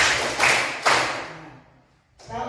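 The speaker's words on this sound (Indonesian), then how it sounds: "tepuk tangan, tepuk satu, tepuk dua, tepuk tiga" A group claps hands in a counted pattern, a few loud, close claps in quick succession that ring out and fade, then a fresh burst of clapping at the end.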